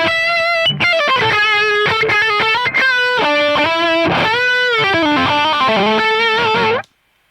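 A distorted electric guitar runs through a HeadRush Prime amp clone, playing loud, sustained, bending lead lines with a few quick breaks, then cutting off sharply near the end.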